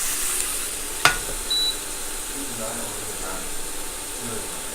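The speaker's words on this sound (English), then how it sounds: "And I have the bacon or the belly fat on searing and everything." Pork belly fat sears in a pan with a steady close hiss and crackle, one sharp clink near the start and soft stirring noises through it.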